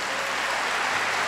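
A steady wash of clapping from a large church congregation at a Catholic Mass fills the space, dense and continuous throughout.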